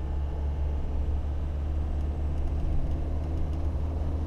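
A Land Rover D90 named Albert is being driven on the road, its engine a steady low rumble with road noise throughout, heard from inside with no talking.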